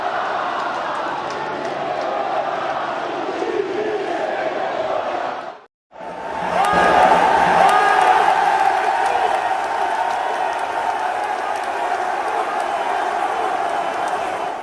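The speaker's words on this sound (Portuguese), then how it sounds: "E agora a torcida grita time sem vergonha" Football supporters chanting against Santos in a stadium, a loud roaring mass of voices that drops out briefly, then surges back stronger with shouted chant.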